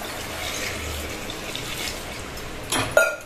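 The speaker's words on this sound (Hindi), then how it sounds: "और इसमें डाल देती हूँ पानी में," Water poured into a pot of washed potatoes, a steady soft splashing stream that ends with a brief louder slosh near the end, close and alone with no talk.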